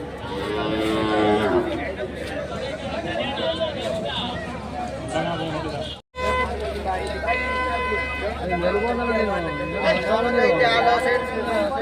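Cattle moo repeatedly at the busy weekly Monday cattle market at K G Temple. Long, low calls rise and fall close by, under constant crowd chatter and people talking nearby.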